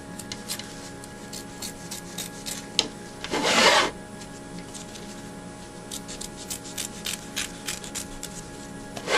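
Scissors trim a fabric quilt piece around its edges, a string of short, close snipping cuts with one longer rasping rub of cloth partway through, quiet and without talk.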